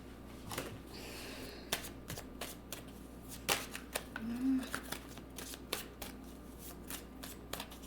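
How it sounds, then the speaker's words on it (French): Playing cards being shuffled in a series of crisp riffling bursts, with sharp snaps as cards jump out of the deck, close and fairly quiet with a low background hum. "Ça saute. Les cartes sautent."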